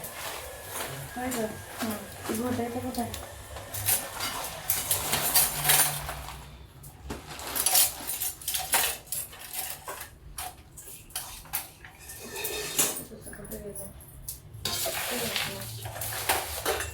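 Poha chivda is stirred in a pan with a spoon, giving scraping, clinking, rattling strokes and a light sizzle that come and go in bursts, while someone talks throughout.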